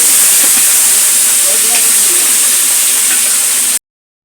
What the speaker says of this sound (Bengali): বাকি মাছগুলো বন্ধুরা আমি এইভাবে ভেজে নেব